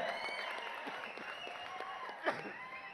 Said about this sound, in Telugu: క్లాప్స్ కొట్టండి ఒకసారి and hats off to Vijay